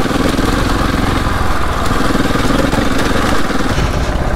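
A Husqvarna 701 enduro rally motorcycle engine drones steadily and loudly while riding off-road, a continuous close buzzing roar with slight fluctuations and no speech.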